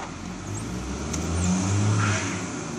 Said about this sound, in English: he's trying, but that truck isn't moving one bit.